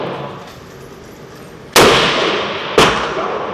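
Two loud, sharp rifle shots at a range during an ammunition accuracy test, about a second apart. Each crack leaves a lingering echo over low background noise.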